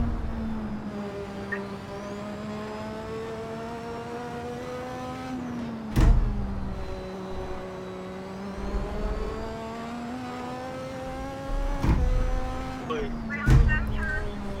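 A Lotus 98T racing car howls around Brands Hatch GP in a VR racing video game, its engine note climbing steadily through the revs, then sharply shifting up with punchy gear-change bursts at regular intervals.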